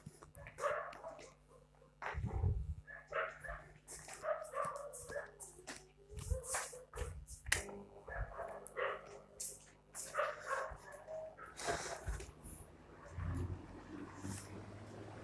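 Dogs bark during an indoor lecture recording, giving repeated sharp barks and yips at close range, irregular and overlapping, mixed with whimpers and a steady background hum.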